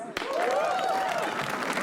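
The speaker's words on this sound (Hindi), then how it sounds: "ओंकार के लिए तालियां प्लीज" A comedy roast audience bursts into steady clapping and cheering, with a bright whoop rising briefly above the crowd noise throughout.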